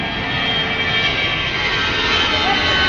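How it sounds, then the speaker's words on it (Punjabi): A passenger airplane takes off on a flight from India to Italy, its engines a loud, steady, unbroken roar heard close up, with no break in the noise. "ਉਹ ਚੜਨ ਲੱਗਾ ਜਹਾਜ਼"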